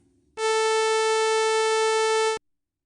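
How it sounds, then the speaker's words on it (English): A synthesized 440 hertz sawtooth wave sounds as one steady, bright, buzzy tone that starts abruptly, holds for about two seconds at even loudness and cuts off cleanly into silence. "We played a 440 hertz sawtooth wave."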